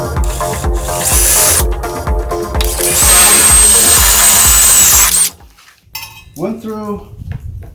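A power drill bores into wood while a custom towing bracket is built for a tiny house trailer, giving a loud, steady grinding whir with rhythmic pulses for about five seconds before stopping abruptly, followed by quieter clatter.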